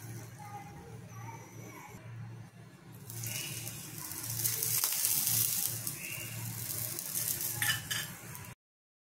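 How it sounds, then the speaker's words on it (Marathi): Water chestnut flour thalipeeth sizzles steadily on a hot griddle, a continuous close frying hiss that swells louder midway, with faint clinks of utensils and a speaking voice over the cooking. "त्याच्यावरती आपण थालीपीठ असं टाकून घेऊयात आणि ते छान खरपूस भाजून घ्यायचं आहे आपल्याला"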